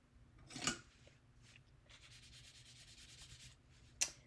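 Soft scratchy rubbing of colored pencil on paper, continuous strokes with brief pauses, close and quiet, ending with a sharp tap.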